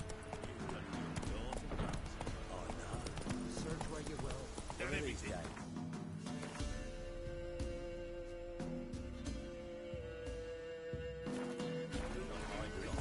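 Roach, a horse in The Witcher 3, gallops with rapid, rhythmic hoofbeats mixed with game sound and a voice talking over it.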